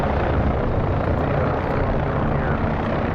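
OH-6 helicopter in the flight simulator DCS World, its rotor and turbine giving a loud, steady, dense roar that fills the whole stretch without a break, heard up close.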